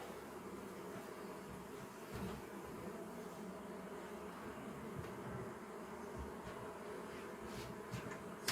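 Honeybees buzz continuously around an open hive during an inspection, a dense, steady drone close to the microphone with faint clicks of handling near the end.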